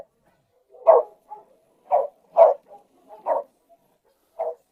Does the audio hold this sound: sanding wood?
no